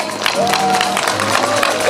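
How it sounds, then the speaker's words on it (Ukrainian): Crowd applause at a school first-bell ceremony greets the eleventh-graders, a continuous wash of clapping with some cheering, fairly loud and close throughout. "Вітаємо бурхливими оплесками наших одинадцятикласників"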